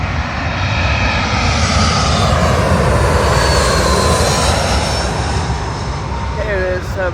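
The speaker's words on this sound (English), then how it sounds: "Arriving in now, I believe, is the British Airways A319, working a service from Manchester Airport to London Heathrow." A British Airways Airbus A319 lands on runway 27L at London Heathrow, its loud jet engine roar filling the scene with a steady rumbling whine close by.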